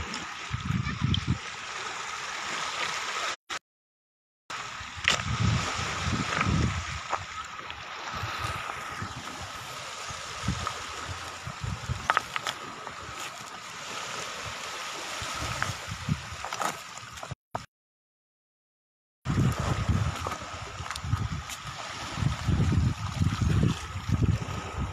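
Sea water laps along the shore at Cabadbaran City, a continuous gurgling wash with soft low surges, broken twice by brief dead silences.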